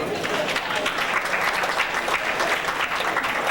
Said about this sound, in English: Let's give that guy another round of applause.